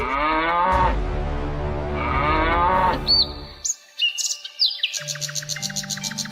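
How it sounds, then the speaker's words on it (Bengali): Cartoon cows moo in long, loud, drawn-out calls, followed by a burst of quick chirping bird calls and rapid twittering near the end. "আরে ওই দেখ, গরুগুলো মারামারি করছে"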